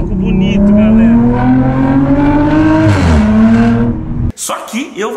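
A car engine roars loudly and steadily with a throaty revving tone that dips near the end, then cuts off to quieter sounds.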